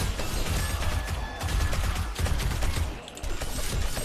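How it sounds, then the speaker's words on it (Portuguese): Rapid bursts of gunfire in the video game 7 Days to Die during a horde night, loud and nearly continuous with brief dips, dense shots layered over each other. "Tentar dar o máximo de tiros aqui,"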